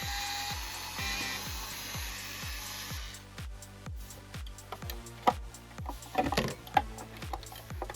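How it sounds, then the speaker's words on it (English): A small power screwdriver runs in short whirring bursts while backing out screws from the mid-range drivers of an Anker Boom 2 SE speaker. Faint clicks and taps of handling follow as the screws come loose. "I'll remove the mid-range drivers by unscrewing the 4 screws on each driver"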